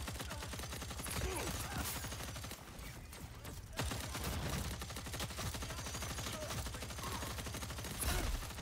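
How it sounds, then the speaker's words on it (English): A light machine gun fires in a video game, bursts of rapid shots with short pauses, fairly faint and mixed with other game sounds. "Nice to have a little LMG right now, I guess."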